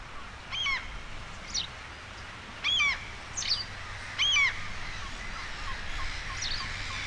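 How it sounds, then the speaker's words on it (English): Several harsh, coarse black-headed gull calls in short bursts, some doubled, ringing out over a steady low background rumble on the Edinburgh shoreline, with gaps between them. "You often hear kind of coarse calls of black-headed gulls"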